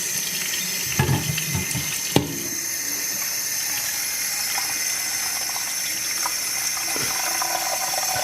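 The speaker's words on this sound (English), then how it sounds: "So let's turn the water on here." Water runs from a tap in a steady, loud gush, filling the reservoirs of a water-powered clock, with a couple of clunks near the start and no one talking.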